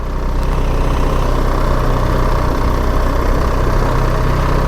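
A BMW R 1300 GS motorcycle engine rumbles steadily at low revs as the bike rides slowly along a snowy mountain road, a constant loud, near drone with wind noise and no voices.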